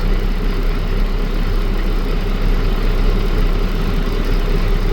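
A Premier MT35P75 deicer's engine idles loud and close, holding a continuous, even low rumble with no change in speed and no voices.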